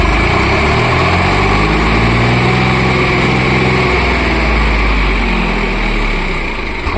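A tractor engine runs loud and close, a steady droning rumble that holds level throughout with no talking over it.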